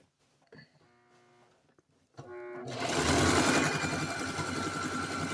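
A sewing machine stitches a seam on a garment being reworked from a jumpsuit into a tunic top, with a few short bursts first, then a loud, steady run of rapid whirring stitches that carries on to the end.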